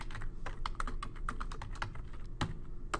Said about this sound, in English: it just waits for you to type in what you want